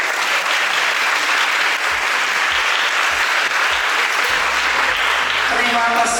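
Steady, dense applause from a large audience, sustained throughout without a break.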